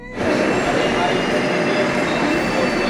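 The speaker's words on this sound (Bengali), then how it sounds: "এক প্ল্যাটফর্ম থেকে এক প্ল্যাটফর্মে ট্রেন দেখাচ্ছি, মেট্রো।" A metro train at New Garia station rumbles steadily and loudly right after a quick onset, a broad continuous roar with faint wheel squeal lasting throughout.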